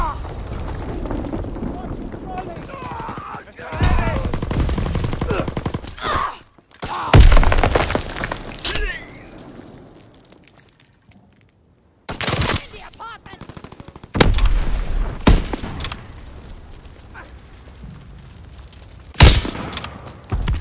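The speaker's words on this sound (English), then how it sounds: "Enemy bomb incoming! Get to cover!" Bomb blasts and rapid gunfire fill a Call of Duty WWII match in loud bursts separated by short quieter gaps, with heavy booms and sharp crackling shots up close.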